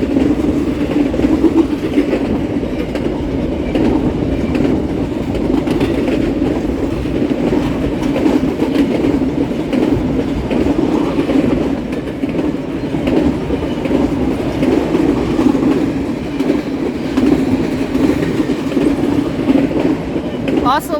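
A long freight train passing close by, a loud continuous rumble with clickety-clack of wheels that carries on for the full twenty seconds, with people talking over it.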